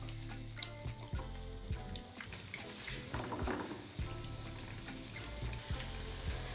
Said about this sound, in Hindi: अब बाकी वाला पोर्शन भी मैं इस तरह से सेम फ्राई कर लूँगी।